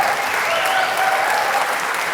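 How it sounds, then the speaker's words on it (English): Audience at a community awards ceremony applauding a winner, a thick, continuous roar of clapping with a faint whoop or two rising from the crowd. "That's the big applause"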